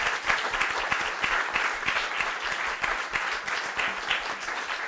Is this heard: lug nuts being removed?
no